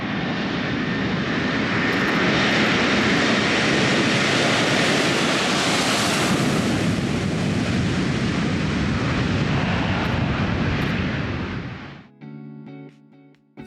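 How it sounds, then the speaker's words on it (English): An RAF Voyager KC Mark II tanker aircraft of 10 Squadron takes off for an air-to-air refuelling sortie, a loud, steady, broadband jet roar that holds near and constant for about twelve seconds, then cuts abruptly to a brief tonal snippet. "That was the sound of an RAF Voyager KC Mark II taking off on an air-to-air refuelling"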